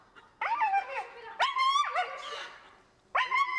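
A dog yelps and whimpers in high, excited bursts while urged to catch a hen, three separate outbursts with short pauses between them, close by.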